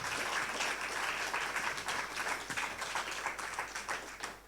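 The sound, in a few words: congregation applause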